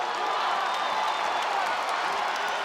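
An arena crowd roars steadily throughout a women's MMA fight between Zhang Weili and Joanna Jedrzejczyk, a dense, continuous wash of cheering with no breaks.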